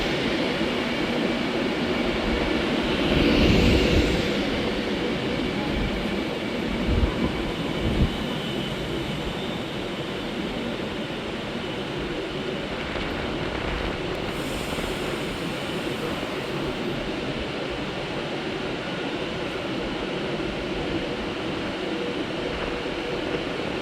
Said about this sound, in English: getting ready to depart now is going to be the 1653 Avanti West Coast service to London Euston